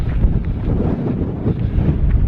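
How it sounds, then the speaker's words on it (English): Strong wind buffets the microphone on an exposed moorland hillside walk along a coast-to-coast trail, a loud, continuous low rumble with gusty swells and no voices. "Just wish this wind would stop."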